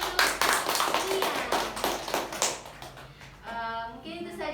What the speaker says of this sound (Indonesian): Beri tepuk tangan untuk Nia.